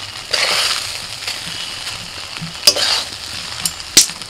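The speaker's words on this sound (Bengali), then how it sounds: "এবার ভালো করে মিশিয়ে নেব।" Chicken fry biryani being mixed in a pan, a soft frying sizzle broken by a few sharp scrapes and clinks of the spoon against the pan.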